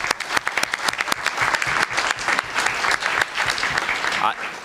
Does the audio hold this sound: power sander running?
no